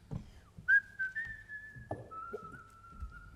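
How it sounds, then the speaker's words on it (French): A person whistles a few sustained, wavering notes, clear and close, with small bumps of other sound in between. "Enfin, mais comment il siffle?"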